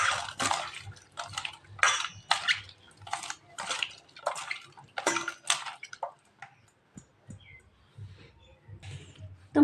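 Chopped taki fish is rubbed and washed by hand in salted water, giving a run of splashy, squelching bursts in a steady rhythm that thin out into softer drips and light sloshes near the end.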